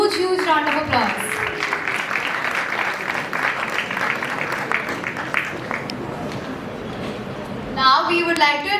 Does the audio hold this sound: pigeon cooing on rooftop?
no